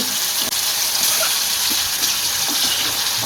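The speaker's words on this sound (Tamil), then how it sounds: "இப்போ எண்ணெய் நல்லா சூடாகிட்டு இப்போ நம்ம கழுவி வச்சுருக்கிற அந்த கறியை போட்டுடலாம்" Salted dried meat drops into hot oil and fries with a loud, dense, continuous sizzle that stays close and steady throughout.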